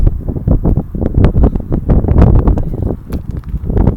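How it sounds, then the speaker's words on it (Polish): Strong gusty wind buffets the microphone at a panoramic viewpoint, a loud rumbling, fluttering roar that surges and dips throughout. "Wiaterek wieje, co?"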